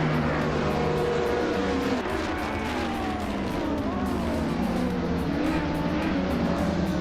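Engines of video game race cars launching at the start of a race on the Black Cat County Intermediate track, with a continuous loud roar and several engine tones sweeping up and down together.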